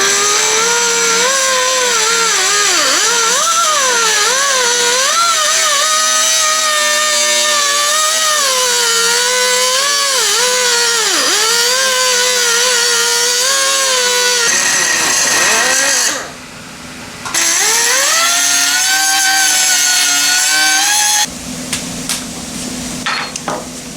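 A cut-off tool with its cutting wheel spins in an automotive shop, a loud, close, continuous whine whose pitch rises and dips as it loads, briefly dropping away before running again.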